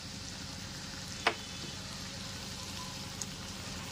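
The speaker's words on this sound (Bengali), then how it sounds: "মশলাটা দিয়েও খুব ভালো করে কষিয়ে নিতে হবে।" A masala paste of cumin, Kashmiri chilli and coriander powder sizzles in a pan over a medium flame. A soft, continuous crackle is broken by one sharp clink near the start and a faint tap later.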